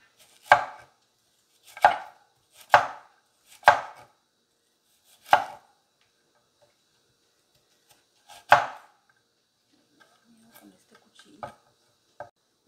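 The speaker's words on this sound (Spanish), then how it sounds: "vamos a partir nuestra verdura para las tortas" Vegetables for tortas, including onion, are chopped on a board with a knife: six loud, sharp, well-spaced chops, then a few faint taps and small handling noises trail off.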